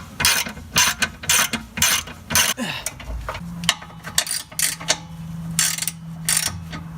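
A hand ratchet tightens a bolt on an S13 240SX rear suspension, loud close bursts of rapid clicking repeating in short strokes with brief pauses between.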